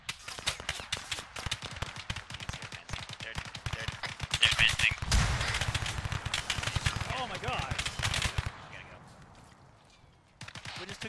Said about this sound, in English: Direct artillery fire.